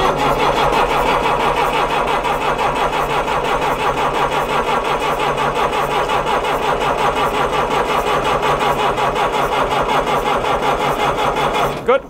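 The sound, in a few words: Mercedes MB Trac tractor diesel engine cranking and starting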